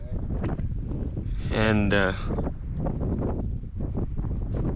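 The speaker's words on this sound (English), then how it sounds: "A bit windy today" Wind blows steadily across an open ranch, buffeting the microphone with a constant low rush while someone speaks briefly over it.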